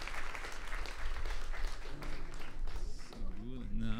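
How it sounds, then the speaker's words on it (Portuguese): Church congregation applause, a dense, fairly quiet patter of many hands that gives way to voices and tonal sound toward the end. "Dá uma salva de palmas bem bonita."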